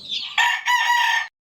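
A single rooster crow sounds close and loud, a drawn-out call lasting about a second that breaks off abruptly into silence.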